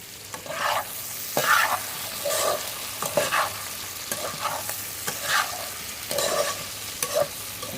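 Capsicum and onion fry in a pan as chopped tomatoes go in, giving a steady sizzle broken by repeated scraping stir strokes at a roughly regular rhythm, close and clear with no voices.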